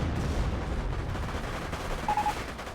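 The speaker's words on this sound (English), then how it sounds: "He's getting sieged by his opponent's artillery piece." Artillery fire in the World War II strategy game Company of Heroes, a continuous rumble of booms and distant shelling that rolls on steadily with no clear pauses.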